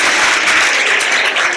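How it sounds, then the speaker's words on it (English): Audience applause for a guest speaker at an event: a short, loud, dense burst of clapping heard on its own. "Let's give her a warm welcome and a round of applause."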